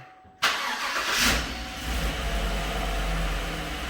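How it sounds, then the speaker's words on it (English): A Chevrolet Silverado truck engine cranks and fires abruptly after a quiet moment, then settles into a steady, rumbling idle close by, with no talking. "Is it gonna start? Oh, it's gonna start like not even a problem."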